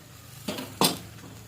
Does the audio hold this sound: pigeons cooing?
no